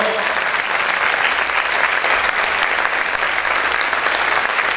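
A church congregation claps loudly for the Lord, a thick, even roar of many hands that holds at full strength without a break.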